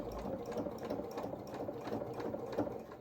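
A sewing machine runs at a steady clip, stitching a seam on small mechanic's coveralls, close and continuous with a soft rhythmic needle patter throughout.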